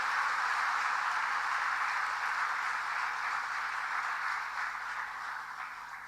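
A crowd at a government event in Bhopal claps to welcome Madhya Pradesh Chief Minister Dr. Mohan Yadav. The applause is a dense, sustained wash of many hands that eases slightly toward the end, with no voices over it.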